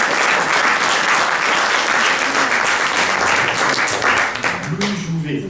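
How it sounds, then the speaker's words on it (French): A theatre audience bursts into loud, dense applause that holds steady for several seconds before thinning out, with a voice beginning to speak as it fades. "Et applaudissez-vous maintenant"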